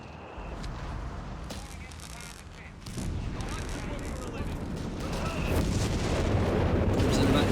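Artillery fire in the video game Company of Heroes 3 rolls as a continuous rumble of booms and blasts, swelling louder toward the end, under a caster's voice.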